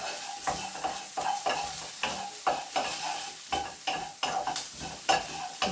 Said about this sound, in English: So now I'm going to add my garlic.